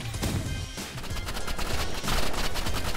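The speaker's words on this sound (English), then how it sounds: "I'm using my assault rifle now" Rapid assault rifle fire in a fast-paced shooter game, a dense, loud burst of overlapping shots with a brief pause before the firing resumes even heavier.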